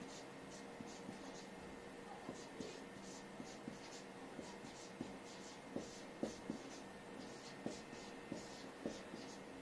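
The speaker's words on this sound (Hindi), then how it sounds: "देखिए हम इनको इस तरह से लिख सकते हैं" A pen or marker writes chemistry notes during a lesson on group 15 p-block elements, producing a rhythmic series of short scratchy strokes, close and fairly quiet over a faint steady background hum.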